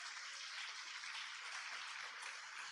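A church congregation applauding together, a dense, even patter of many hands clapping steadily and fairly faint, with no voices over it.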